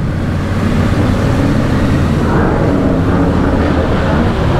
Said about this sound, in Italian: il rumore che state sentendo è il T7 Boano che ha Alex Di Muzio per questo giro qua.